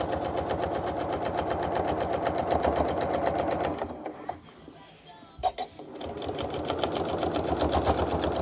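A sewing machine runs steadily, quilting a custom memorial quilt, with a fast rapid needle chatter that stops briefly midway, a few faint handling noises in the pause, then starts up again, close and even.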